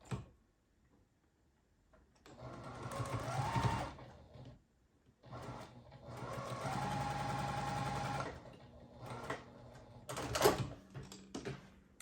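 Sewing machine stitching quilt block pieces in two sustained runs, each a few seconds long, with short stops between them and a few light clicks and taps afterward; nobody speaks.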